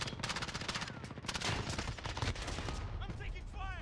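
Rapid automatic gunfire from a multiplayer Headquarters match in Call of Duty: Modern Warfare, dense continuous bursts of shots close by, with brief radio-style voice chatter near the end.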